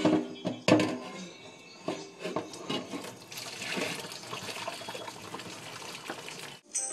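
Water pours and gushes from a cooking pot being drained by hand without a strainer, a steady splashing rush lasting several seconds after a few clattering knocks, then stopping abruptly.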